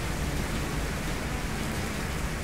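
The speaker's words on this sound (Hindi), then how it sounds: "ओह ये तो बारिश शुरू हो गई है" Steady rain falls outdoors on a street in Bangkok, an even broadband hiss with no distinct drops, filling the whole stretch with no voices.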